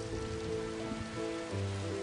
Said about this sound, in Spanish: El monótono golpeteo de las gotas duraba semanas.